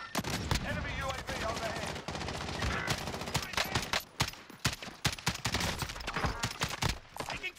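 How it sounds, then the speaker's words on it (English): Assault rifle fire in a military shooter video game crackles in rapid, dense bursts, loud and close, with a few brief pauses between volleys, while radio-style voices call out in the mix. "Taking fire! Assault rifle here."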